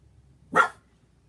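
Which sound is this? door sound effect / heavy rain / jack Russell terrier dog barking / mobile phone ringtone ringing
jack Russell terrier dog barking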